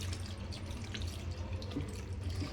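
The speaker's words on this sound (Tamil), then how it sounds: "தேவையான அளவுக்கு தண்ணி வந்து ஊற்றிக்கலாம்." Water being poured into chicken curry in a pressure cooker, a steady low pouring and splashing wash with faint drips, continuous and close, no voices.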